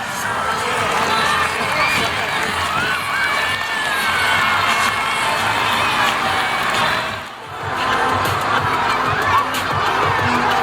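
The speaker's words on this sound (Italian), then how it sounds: "Un applauso, dai!" A large crowd of visiting children cheers and shouts at a fire station during a visit with firefighters, a sustained noisy roar of young voices with clapping mixed in, dipping briefly before rising again.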